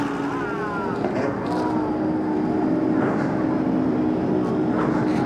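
Endurance race cars fire up and rumble at Spa-Francorchamps ahead of the 6 Hours race, a broad mechanical drone of several engines at a distance, with a low voice talking over them.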